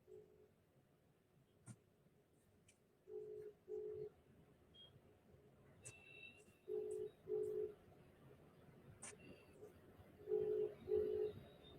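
A telephone call rings out unanswered: six evenly paired ringback tones in three pairs, fairly faint over a low background hum, with a couple of brief clicks between them.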